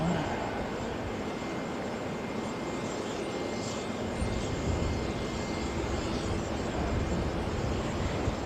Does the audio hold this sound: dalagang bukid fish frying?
no